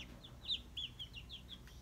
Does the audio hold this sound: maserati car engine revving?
no